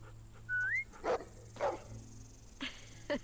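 A dog in The Walking Dead video game gives a high, short yip, followed by several soft, clipped barks spaced across a few seconds, fairly quiet against a low background hum.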